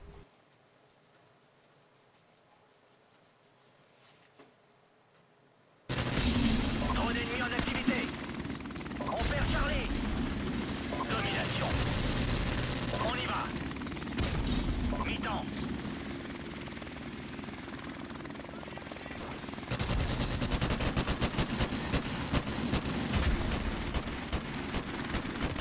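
M16 rifle gunfire in Modern Warfare Remastered, bursts of shots over loud game noise and engine drone after a quiet opening, with rapid repeated shots toward the end.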